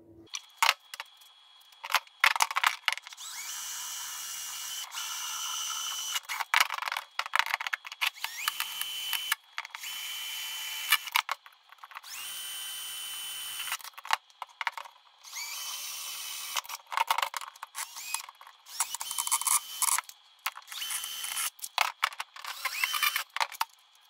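A drill bores small holes into an air filter housing cover, eight in all, heard as repeated whirring bursts of a few seconds each, close and fairly loud, separated by short pauses, with no talking.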